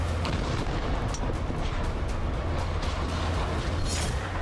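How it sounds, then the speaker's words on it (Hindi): Missile strikes and explosions from air attacks in Gaza, heard as a dense, continuous roar of booming blasts and rumbling fire throughout, loud and steady with no speech. "ताबड़तोड़ हवाई हमले हो रहे, हर तरफ धमाकों की आवाज है।"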